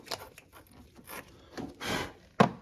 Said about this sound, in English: Now we'll clean up this negative terminal, the clamp itself, and the battery.